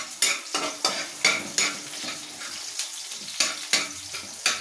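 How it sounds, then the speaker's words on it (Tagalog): Eggs with tomato, and onion cooked alongside, frying in a pan: a bright steady sizzle broken by repeated sharp scraping and stirring strokes from a utensil, close and clear with no talking. "magpiprito na po tayo ng itlog na may kamatis po"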